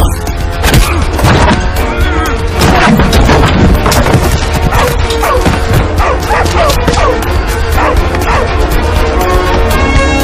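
A dog barks repeatedly in a Hindi film scene, loud sharp yips and bow-wows in irregular bursts mixed with dialogue and a dense music or ambient bed.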